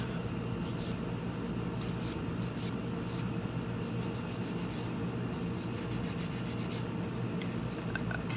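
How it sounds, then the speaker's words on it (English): A nail buffer rubs steadily across a glossy top coat on fingernails, knocking down the shine with soft, close scratchy strokes in quick repeated bursts. No talking. "all I'm doing is I'm just taking down the gloss on the top coat"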